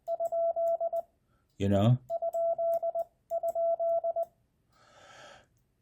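A radio operator's voice imitates Morse code tones, clipped sung syllables in short bursts, followed by a sweeping chirp and a faint noisy burst at the end.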